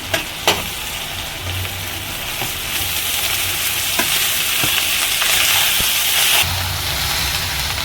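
Partly cooked rice stirred in hot oil with cumin for jeera rice: a loud, close, hissing sizzle runs throughout, with occasional spoon scrapes and knocks against the pan.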